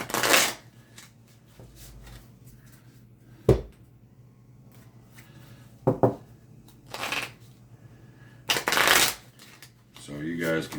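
Six decks of playing cards are shuffled by hand in several separate riffle bursts, each a short, crisp flutter, with quiet gaps and light handling between them and occasional talk.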